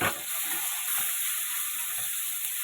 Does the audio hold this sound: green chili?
yes